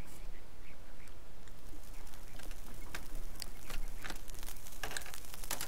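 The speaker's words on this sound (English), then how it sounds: "These aren't frogs, these are birds, maybe?" Chirping birds in a video game, a dense flurry of short bright calls and twitters over a busy background wash, fairly loud throughout.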